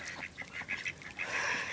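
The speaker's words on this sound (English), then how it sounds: "See the ducks, how they're trying to chase him?" Mallard ducks quack and honk in a quick, irregular series of calls at moderate distance, rising into a denser burst of calling near the end as the males chase others.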